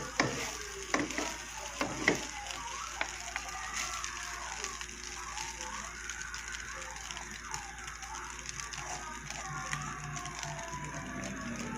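Fried rice with leftover menudo frying in a pan, a steady close sizzle with occasional scraping and stirring clatter from a utensil, louder knocks near the start.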